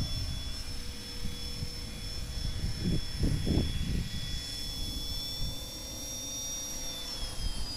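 A Flypro JCZK Heli 300c RC helicopter comes in for an automatic landing, its rotor and motor giving a steady high whine with sustained tonal hums, while a brief burst of lower thuds rises in the middle.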